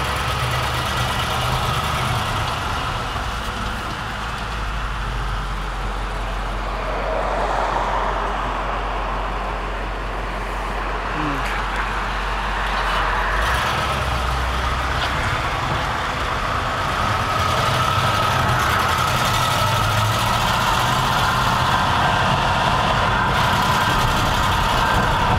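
A 1954 Cadillac Series 62 coupe, long left sitting in a field, drives along with its engine humming steadily throughout, a continuous low rumble with road and wind noise and no talking.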